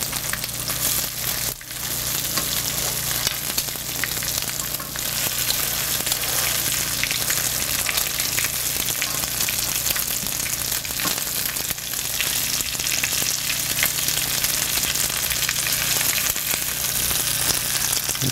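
Crab cakes fry in a pan with a steady, dense sizzle that runs close and loud for the whole stretch, with no voices over it.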